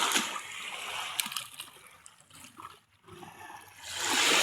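Splashing and sloshing in clear, calm sea water while bathing, close by and moderately loud, easing off briefly in the middle before a strong rushing surge at the end.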